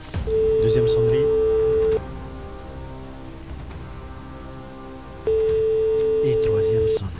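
Two telephone ringing tones sound during a call placed in a prize draw, each a steady electronic ring of about a second and a half, separated by a long pause with faint background voices.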